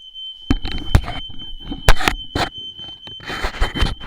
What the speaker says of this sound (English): Oh god, now the alarm's got off.